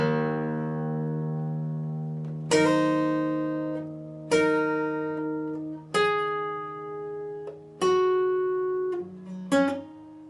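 A clean guitar slowly plays the opening phrase of a song's second verse: a ringing chord, then about five plucked chords and notes spaced a couple of seconds apart, each left to ring and decay, close and unaccompanied.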